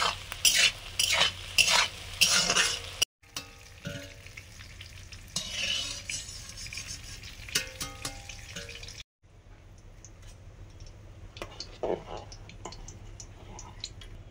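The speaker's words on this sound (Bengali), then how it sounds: "ক্যাপসিকাম ভাজছি" Capsicum frying in a pan, sizzling steadily while a utensil stirs and scrapes in bursts, with brief clinks and a couple of short pauses, close and moderately loud.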